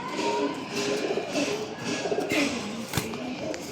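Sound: Giribaz pigeons cooing

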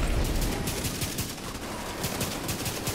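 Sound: gunfire from a gun in video game The Division 2

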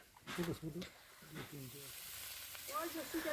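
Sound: cumin, green chilli, onion and vegetables frying in pan

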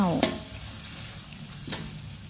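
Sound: stir-frying chili in a pan

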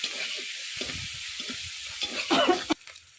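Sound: spice paste with ginger being fried (koshano)

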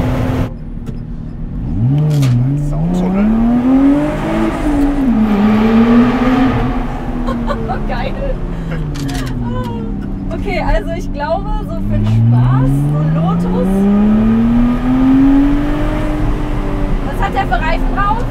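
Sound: Lotus Exige engine accelerating through a tunnel

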